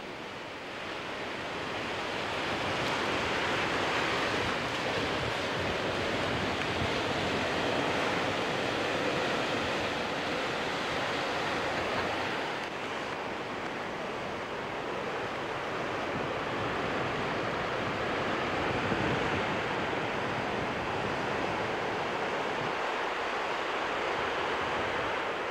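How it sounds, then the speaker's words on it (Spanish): Ocean waves washing onto the beach at Puertecillo, a steady broad roar of surf close by that swells and eases slightly over the whole stretch, with no voices. "Las olas se encargan de transportar las matas hasta la playa."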